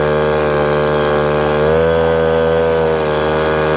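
A Garelli SuperSport moped engine runs at wide open throttle, a loud, close, steady buzzing whine that climbs slightly in pitch partway through and then holds.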